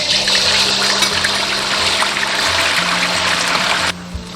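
Chicken pieces for spicy Sichuan chili chicken sizzle in hot oil, a loud, continuous hissing crackle with a steady hum underneath that drops slightly near the end, with no talk.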